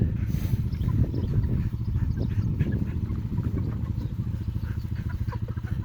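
A flock of seven-week-old pastured broiler chickens clucks and chatters continuously nearby, a busy overlapping murmur of bird calls with no talking.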